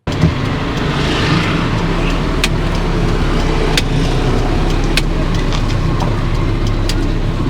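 A car driving on a road in India gives a steady, loud engine and road rumble throughout, with a few faint sharp clicks over the continuous traffic-like noise.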